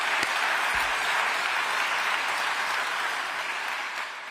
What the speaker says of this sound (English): So every applause is warranted for you, Armin, and your people.